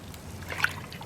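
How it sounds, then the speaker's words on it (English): Caribbean blue dye liquid poured into a dyebath for tonal yarn dyeing, a soft, close trickle and dribble of liquid with a brief splashy peak midway, heard alone at low level. "So I'm pouring in our Caribbean blue"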